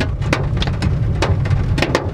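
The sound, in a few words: hail falling during a storm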